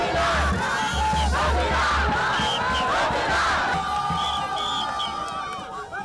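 A dense crowd roars and cheers continuously for athlete Noélie Yarigo, with yells and shouts layered over a loud, sustained wall of voices that eases slightly toward the end.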